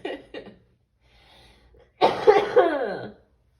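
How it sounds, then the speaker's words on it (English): A woman gives a couple of short, dry coughs, then after a pause a longer, harsher coughing burst, heard close and alone. "my cough is just like horrible right now."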